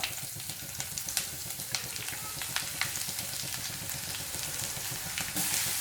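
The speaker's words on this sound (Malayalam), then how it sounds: "ഇനി ഒന്ന് ഇളക്കി കൊടുക്കാം അതിനുശേഷം ഇതിലേക്ക് നമുക്ക് ക്യാരറ്റ് ഗ്രേറ്റ് ചെയ്തത് ഇട്ട് കൊടുക്കാം" Grated carrot is stir-fried in a pan for a Kerala carrot thoran, a steady close sizzle with rhythmic scraping stirs running throughout and no voices.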